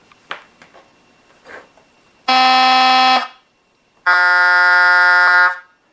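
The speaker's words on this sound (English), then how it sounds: "2 different horn sounds there" Two loud, buzzy electronic horn blasts from a Beier MSM-1 model train sound module, the first about a second long and the second slightly longer and lower, following a few faint clicks.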